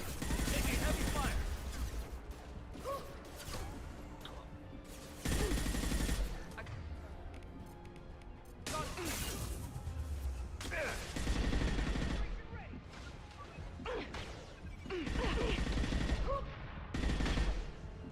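Gunfire in the Mass Effect Legendary video game, bursts of rapid automatic shots arriving in dense clusters and pauses over a long stretch of combat, loud and close, with voices speaking between and over the shooting.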